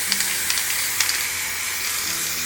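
Aerosol fixative sprayed over a finished charcoal drawing, a steady broad hiss running throughout at close range with a few faint ticks and no talk.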